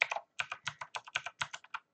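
Password being typed on a computer keyboard: a quick run of about a dozen crisp, close key clicks in an uneven rhythm, fairly quiet, with no voices.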